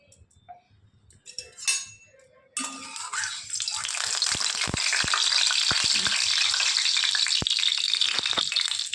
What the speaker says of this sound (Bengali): এবার কড়াইতে আমরা তেল দিয়ে দিচ্ছি।